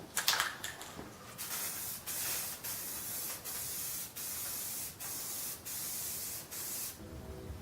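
Short bursts of light blue Rust-Oleum spray paint hiss onto wheelbarrow handles, about eight even pulses of a couple of seconds each with brief gaps, close and steady, no talk.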